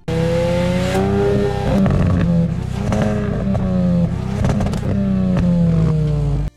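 A sporty hatchback engine revs hard and loud, climbing and dropping in pitch through several bursts, with no talking.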